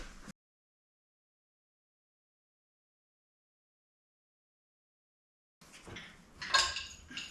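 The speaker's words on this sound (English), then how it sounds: "I'm going to grab wrenches here" Metal wrenches being grabbed and handled during work on a Yamaha XS650 motorcycle: after a long silence, clinking and jangling of metal tools, with a louder clatter near the end, fairly close and without talk.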